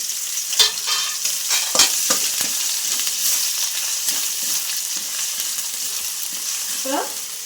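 Green chilli and grated ginger frying in a pan over lowered gas heat for a paneer and cashew curry, giving a steady close sizzle with a few sharper stirring scrapes and clatters, no voices.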